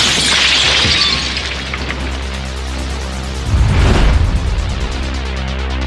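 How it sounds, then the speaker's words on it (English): A blast wave bursting a wall of glass windows, heard as a loud, dense roar of shattering glass with a heavier rumbling burst midway, sustained and close, with no voices. "Military high-speed film shows what it's like when a blast wave hits a wall of glass."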